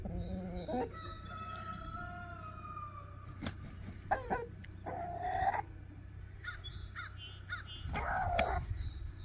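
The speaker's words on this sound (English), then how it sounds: "You hear that hawk?" A hawk calls out over a backyard chicken yard, its harsh, ringing cries coming in a few separate bursts, mid-distance, among other bird calls and a steady low outdoor rumble.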